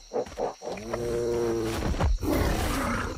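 A tiger roars in the video game Atlas, a long rumbling growl preceded by two short grunts and followed by a rough, breathy snarl, loud and close.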